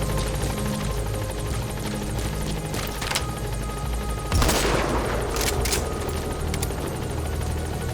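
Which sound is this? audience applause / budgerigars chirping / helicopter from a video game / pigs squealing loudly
helicopter from a video game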